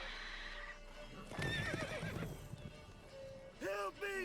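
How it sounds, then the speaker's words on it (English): A horse in a video game gives a loud, shrill whinny, with clip-clopping hooves and voices of game characters talking around it. "Whoa there, Roach."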